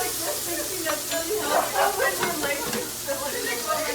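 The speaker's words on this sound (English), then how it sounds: "Let them develop that sear and that crust." Beef tenderloin fillets sear in a hot pan with a steady sizzle and crackle that continues throughout, with a few brief louder pops near the middle.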